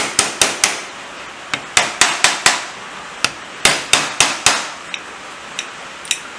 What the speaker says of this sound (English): I'm using the pliers because I daren't let go of these to go and find a hammer.